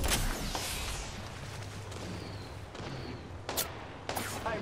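Gunfire in the video game Apex Legends, a few sharp, loud shots, one at the start and a pair of close cracks near the end, separated by a quieter stretch of background noise.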